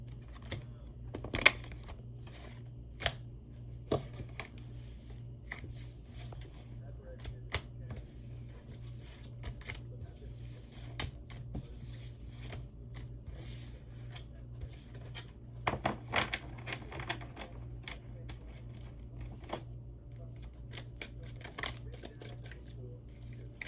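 Quick bursts of crisp papery clicks and riffling come in short clusters over a steady low hum, with scattered taps between them, like cards being shuffled.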